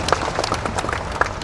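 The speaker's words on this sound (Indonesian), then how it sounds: "Tepuk tangan dulu buat Pertamina." An audience at an Indonesian government small-business event claps for the state energy company Pertamina: dense, close hand clapping with sharp individual claps standing out.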